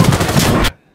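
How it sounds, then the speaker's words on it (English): A video game minigun fires a fast, dense burst lasting under a second, loud and close, then cuts off abruptly into near silence. "How is this minigun not landing any of these guys that I'm shooting in front of me?"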